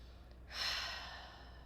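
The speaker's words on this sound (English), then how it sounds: "In through the nose, out through the mouth." A single soft breath taken in through the nose and released through the mouth, a faint, airy exhale rising and fading over a low background hum.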